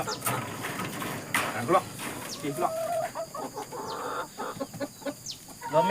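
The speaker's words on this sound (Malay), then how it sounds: "Lomeng Brown Pak Long ni memang bertelur hari-hari." Brown laying hens clucking and squawking on a garden smallholding, several short calls scattered near and at middle distance, with a person talking through much of it.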